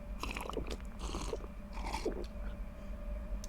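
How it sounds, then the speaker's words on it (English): In the game Visage, wet, noisy chewing and biting repeats in several close, crunchy bursts over a low steady hum, with no voices. "Much like the sound of noisy chewing"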